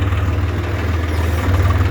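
A tractor engine drones steadily at close range during earthwork on a Ghaggar river embankment, a low, even idling throb that continues without break and with no voices.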